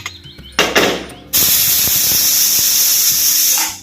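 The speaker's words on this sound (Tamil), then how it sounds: "குக்கர் மூடி போட்டு நம்ம ஒரு 5 விசில் வச்சு நம்ம எடுத்துட்டு வந்துருவோம்" Pressure cooker on a stove with its lid on while cooking beef: a few short metallic clicks and clanks, then a loud, steady rushing hiss of escaping steam that runs for over two seconds before easing off.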